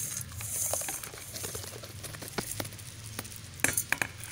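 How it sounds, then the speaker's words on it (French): Salt is poured into bath water for a purification ritual: soft, close pattering and grainy rustling with light splashes and a few sharper ticks near the end, quiet and alone with no talk. "Et quand vous finissez, vous renversez le sel dedans."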